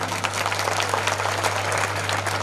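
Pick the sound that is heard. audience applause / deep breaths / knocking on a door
audience applause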